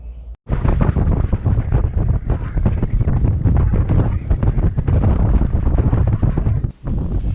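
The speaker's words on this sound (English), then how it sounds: "we were facing some serious offshore winds from the infamous Papagayos, which are known to blow up to 80 knots at times" Strong offshore Papagayo wind buffets a sailboat off Costa Rica and Nicaragua, a loud, continuous roar of wind blasting the microphone with rushing gusts. It starts abruptly after a brief pause and dips for a moment near the end.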